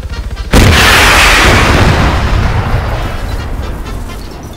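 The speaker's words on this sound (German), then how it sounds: "Bis er explodiert." A vehicle blows up in Arma 3 Altis Life, one sudden loud blast that hits hard after a moment of low game sound, then rolls into a long rumbling, crackling tail that slowly fades.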